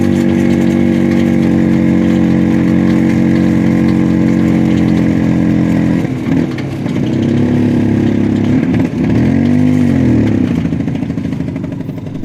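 A Vespa scooter engine chugs uphill on an Alpine road near Zell am See, a loud steady mid-pitched drone that wavers and labors partway through before picking up again, with no voices over it.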